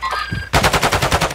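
Rapid sniper and automatic gunfire in a video game, a dense burst of loud, evenly spaced shots filling the second half after a quieter stretch of game ambience.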